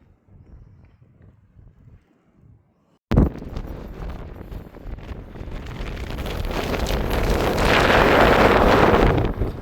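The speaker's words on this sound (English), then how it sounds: "Like, just listen to that wind." Strong gusty wind on the Crib Goch mountain ridge: after a quiet opening, a sudden loud blast of wind hits the microphone and keeps roaring, building stronger toward the end.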